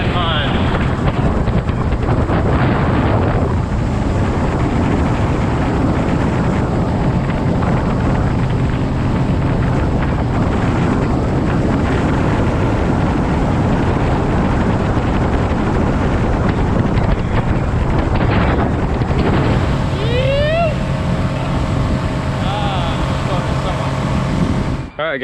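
A Tohatsu 30hp outboard pushing a Gheenoe LT25 boat at speed against the wind with a Powertech SRA3 propeller, a loud sustained engine roar mixed with heavy wind buffeting and water noise, rising and shifting briefly near the end.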